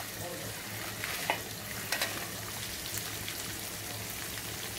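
Dried red chillies fry and are stirred in a pan, giving a steady, dense sizzle throughout with a few faint scraping stirs rising above it, close and constant.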